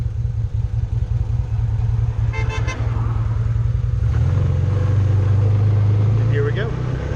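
A Can-Am Commander XT 800R UTV in four-wheel drive high idles and then pulls away with a loud, close engine drone that rises as it moves off, with a few short beeps and a person talking.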